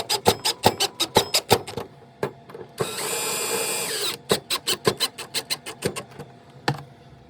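A cordless drill drives screws to hang a TV wall mount, with short repeated clicking bursts, one sustained whir of about a second in the middle, then more quick ratcheting taps, close and fairly loud with no talk.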